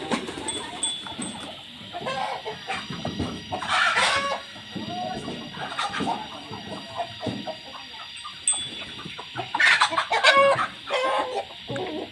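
Farmyard chickens cluck and a rooster crows in bursts over a busy, close mix of livestock sounds, with goat-like calls and scattered rustling throughout.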